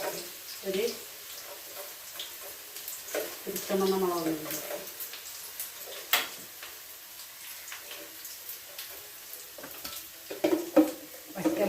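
Green chillies frying in hot oil, giving a low crackling sizzle with small pops and clinks, fairly quiet under intermittent nearby speech.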